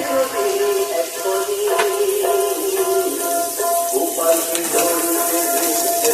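Green beans frying in a pan for a Bengali chira pulao, a steady soft sizzle with light stirring and clinks of a utensil against the pan.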